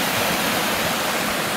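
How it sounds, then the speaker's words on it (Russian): Turbulent water gushes through a breach in a beaver-dug pond dam patched with clay-filled sacks, a loud, steady, close rushing roar with no pauses. "А вот он, поток бурный."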